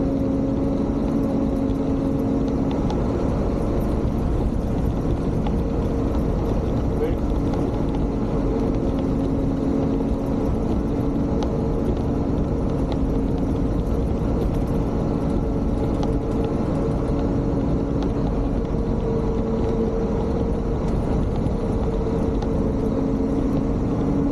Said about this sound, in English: Big old diesel engine, baby.